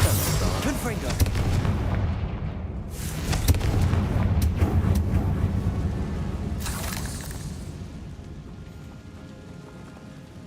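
Repeated Confringo spell blasts in the Hogwarts Legacy video game, a run of loud booming bursts inside a tomb, sustained over several seconds before easing off, with a voice heard partway through.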